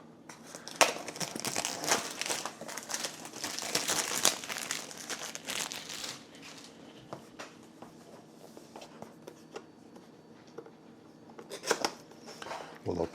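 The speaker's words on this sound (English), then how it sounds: "Let's get this plastic off." Crinkly plastic wrap is peeled and torn off a gimbal box, dense close rustling for several seconds, then quieter handling and a final burst of crinkles.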